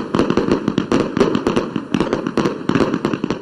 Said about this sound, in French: Entendez là l'utilisation des pétards et autres feux d'artifice pour marquer le passage d'une année.